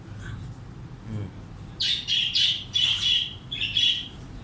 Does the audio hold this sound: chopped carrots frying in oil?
no